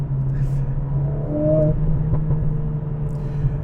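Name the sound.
Mercedes CLA45 with new exhaust accelerating in race mode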